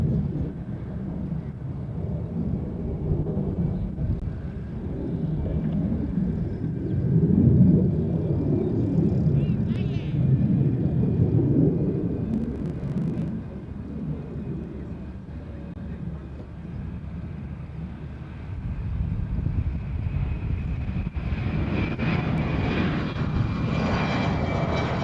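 Airplane taking off at Honolulu airport on runway 8, a broad low roar of jet engines that swells and eases over about twenty-five seconds, heard from a distance with a faint voice in the background.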